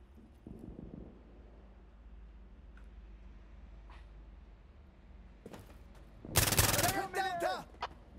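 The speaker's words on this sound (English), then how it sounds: "Thank God I have this rapid fire gun." In Insurgency Sandstorm, a rapid-fire gun shoots on full auto. Faint distant shots come first, then a loud close burst near the end, followed by a shouted voice.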